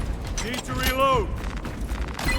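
Weapon reloading in Warhammer 40,000 Space Marine 2 makes short mechanical clacks and a ratcheting creak, close and fairly loud, over low game ambience.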